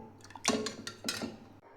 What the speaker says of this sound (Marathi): गॅसवरती कढाई ठेवली, अर्धी वाटी तेल टाकले.